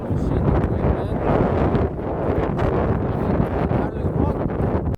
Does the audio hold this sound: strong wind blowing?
yes